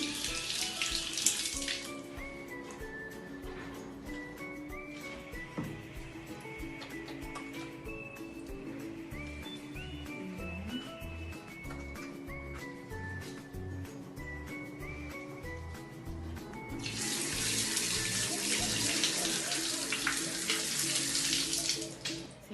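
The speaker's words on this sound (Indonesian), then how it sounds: "Kemudian kita cuci tangan menggunakan sabun." Water runs from a tap during handwashing with soap, a steady rushing splash that softens through the middle and then swells louder again near the end, with no talking.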